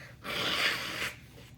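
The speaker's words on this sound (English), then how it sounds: "sorry, I have to blow my nose again" A person blowing their nose, one close, moderately loud honk lasting about a second and then trailing off, heard alone in a quiet room.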